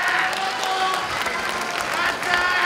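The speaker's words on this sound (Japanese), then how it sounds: "安幸選手に盛大な拍手をお願いいたします。" Large crowd applauding a kickboxing fighter's victory at a fight event, dense continuous clapping filling the hall, loud and sustained with a swell near the end.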